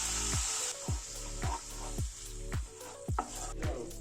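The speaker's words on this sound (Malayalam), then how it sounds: "ഓക്കെ, നമുക്കിനി ഇതിലേക്ക് വിനാഗിരി ഒഴിച്ചു കൊടുക്കാം." Vinegar poured into a hot pan of spice paste for ambazhanga (hog plum) pickle, giving a steady sizzle with several bursts of splashing and stirring, close and moderately loud, with no talking.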